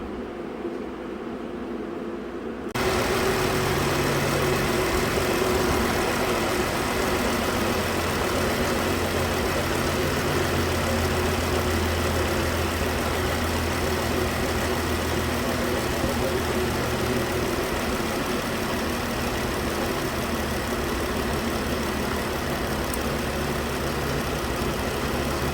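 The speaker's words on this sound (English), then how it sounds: "Just based on the way this thing sounds when it cranks, I think it has a compression problem." A 2013 Ram with the 3.6 engine runs with a misfire, likely from low compression with one bank not firing. After a quieter lead-in of about three seconds, a loud, steady engine drone with low rumble carries on alone.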